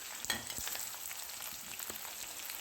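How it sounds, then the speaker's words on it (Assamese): Chopped onions fry in hot oil in a kadai alongside bay leaves and whole garam masala, giving a steady close sizzle with scattered crackles and pops throughout, and no voices. "মই কাটি ৰখা পিয়াজখিনি দি ভালদৰে ভাজি লম"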